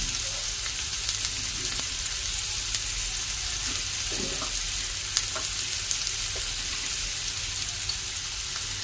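Chana dal frying in a pan with curry leaves and rock salt, a steady soft sizzle and crackle with occasional light pops and stirring, continuous and fairly close, no talking.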